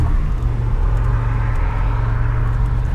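A 1987 Buick T-Type engine holds at a steady, loud, close rumble with a constant low drone and little change in pitch, and no voices.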